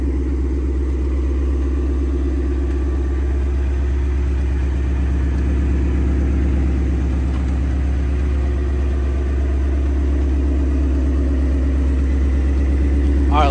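A catless Mustang with a Corsa exhaust idles steadily after a warm start with a deep, loud, continuous rumble close by, holding an even pitch throughout.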